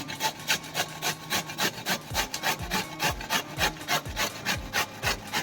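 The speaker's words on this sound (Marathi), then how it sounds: "आता आपण किसून घेऊया दुधी" A peeled bottle gourd rubbed against a grater, making a steady run of rhythmic rasping strokes, close and fairly loud, with no talking.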